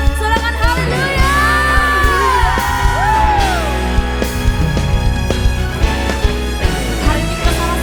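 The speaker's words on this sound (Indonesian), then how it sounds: "Yang merasa kebaikan Tuhan, boleh sama-sama tepuk tangan yang terbaik buat Tuhan Yesus. Sorakan haleluya." A church congregation cheers and whoops loudly, rising yells and shouts over sharp bursts of clapping, with a full crowd sound filling the room throughout.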